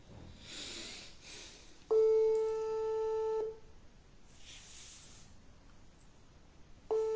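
Phone call being placed: steady tones sound in two separate stretches, one lasting about a second and a half and the other starting at the end, over faint background noise and muffled movement.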